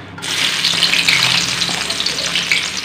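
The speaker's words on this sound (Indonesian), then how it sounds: "Sekarang saya mau goreng dulu bawang" Onions fry in hot oil with a loud, steady sizzle and crackle that stays close and continuous throughout, with no talking.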